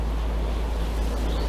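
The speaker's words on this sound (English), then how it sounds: "And look how big these waves can get." Heavy ocean waves crash in a snowstorm in the Stormworks video game, where an oil tanker is in trouble. A dense, steady roar of surf and wind fills the whole moment without a break.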